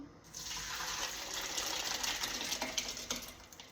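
Thick bean stew gushes and splashes steadily into a big pot standing in a sink, one continuous loud pour running for several seconds with wet slapping toward the end.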